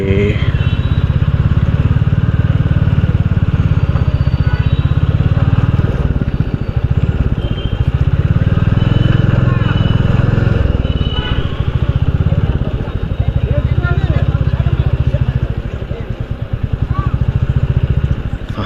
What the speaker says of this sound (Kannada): ನಾನಿವಾಗ ಗಾಡಿ ನಿಲ್ಲಿಸೋದಕ್ಕೆ ಅಂತ ಹೋಗ್ತಾ ಇದ್ದೀನಿ.